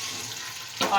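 Sliced onions fry in about one and a half cups of hot oil, a brief close crackling sizzle that grows louder near the end.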